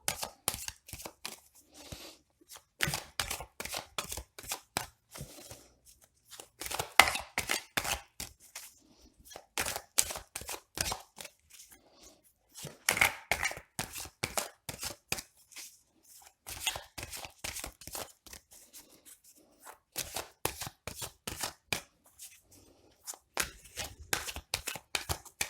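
Oracle cards are shuffled by hand in repeated quick riffling bursts of flapping, snapping card noise, close and fairly steady over a long stretch with short pauses between rounds.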